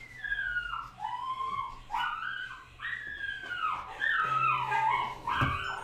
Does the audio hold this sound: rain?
no